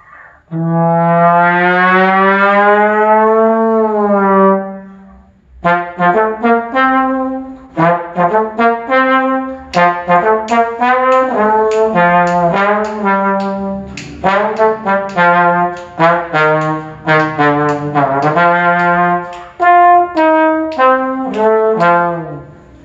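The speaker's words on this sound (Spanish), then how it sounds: "la función del trombón tenor de vara" A tenor slide trombone plays alone, opening with a long sliding note, then a lively phrase of separate tones at close range.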